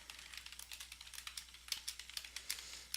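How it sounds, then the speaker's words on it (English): Fast code typing on a computer keyboard: a quick, uneven run of crisp key clicks, close and fairly quiet, with brief pauses between bursts. "this code I'm typing is eerily familiar"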